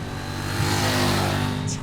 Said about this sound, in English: The engine is a lot more brutal when you tap the throttle.